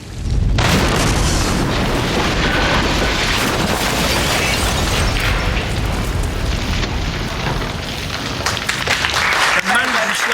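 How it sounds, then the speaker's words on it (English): A big explosion on a TV studio show blasts through strengthened glass, a loud sustained boom and roar of debris filling several seconds, with scattered crackles and bits landing as it fades. "there was quite a big bang"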